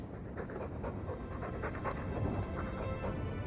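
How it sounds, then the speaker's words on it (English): A dog in the video game Dragon Age II pants rhythmically and steadily, close and soft, with quick breaths continuing throughout and no talk. "He's a sweet dog"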